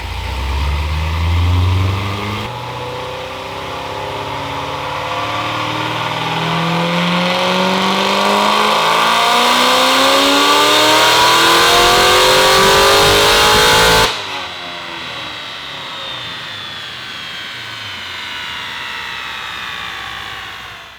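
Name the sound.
Chevrolet Corvette C7 Z06 engine revving on dyno baseline run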